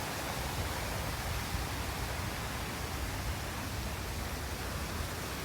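A small waterfall on the Yamashina river with rocks stacked across one side, steady broadband rushing water heard close and fairly loud, continuous and unbroken without any voices.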